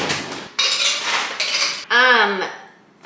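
Dishes and cutlery clink and clatter close by in a few short bursts while making chai, with a brief ringing tone from a struck cup or pot.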